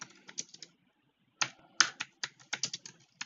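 Computer keyboard keys clack in short, sharp bursts nearby, a few taps, a silent gap of about a second, then a quicker run of clicks.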